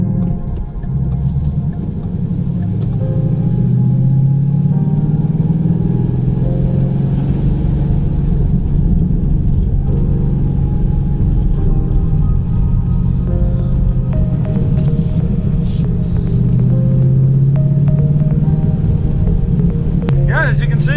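A Ford Mustang revs and pulls away through snow in New England, its engine holding a loud, steady low hum and throbbing rumble that rises in pitch as it accelerates.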